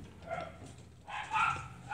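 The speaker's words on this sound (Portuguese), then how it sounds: "Porque os cachorros não estavam parando." Dogs bark in the distance, a few faint, muffled barks in a short burst against quiet room tone.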